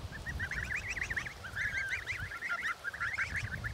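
Geese grazing on a village meadow honk in repeated clustered bursts, a lively overlapping chorus at moderate distance over a low wind rumble.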